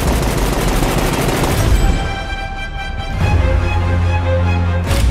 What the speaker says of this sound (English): Guns. Lots of guns.